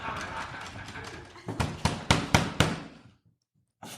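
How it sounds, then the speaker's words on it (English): Car doors are banged in a staged radio play: a run of about five sharp, loud thuds in quick succession, then a pause and one more knock near the end. "Stop banging on the doors."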